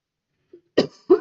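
Two short, close coughs from one person, preceded by a faint brief throat sound, in an otherwise silent setting.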